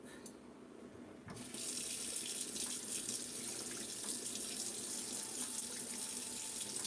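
Running tap water washing items in a sink starts with a quiet rustle, then the faucet opens fully into a steady, close, unbroken rush of water that lasts to the end.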